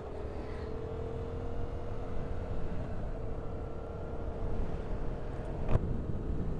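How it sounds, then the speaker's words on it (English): A 2014 Yamaha MT-07 motorcycle exhaust drones steadily with a slightly whiny tone while riding, heard up close under continuous wind rush, with a brief sharper spike near the end. "with this exhaust, it does sound a bit whiny at times"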